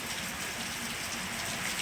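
Rain approaching from a distance makes a steady, dense hiss that stays even and unbroken, with trees swaying in the wind and no voices.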